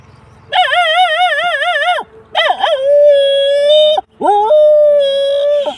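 A person imitates a dog with drawn-out, wavering howls, three long cries separated by short breaks, loud and close, with no other sounds.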